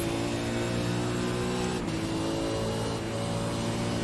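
Simulated V8 Supercars racing around Oran Park in iRacing, a continuous loud engine drone with a sharp shift around the middle and the revs climbing again near the end.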